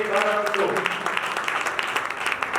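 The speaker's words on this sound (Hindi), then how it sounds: "जोरदार ताली जाएंगे" A church congregation applauding, dense close clapping that runs the whole way through, with a voice speaking over the start.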